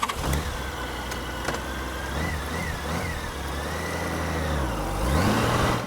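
A Honda Goldwing motorcycle engine runs steadily up close, a low mid-pitched hum with slight pitch swells as it revs gently, rising toward the end.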